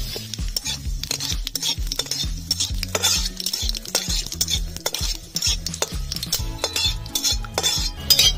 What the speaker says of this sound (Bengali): তেল গরম হয়ে গেছে, ফোড়নে দিয়ে দিচ্ছি গোটা জিরে, দুটো তেজপাতা, নাড়াচাড়া করে নেব।